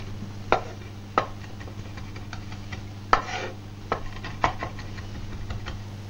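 Knife blade strikes a cutting board in sharp, separate chops while sage is finely diced, about half a dozen close taps at an uneven pace over a low steady hum.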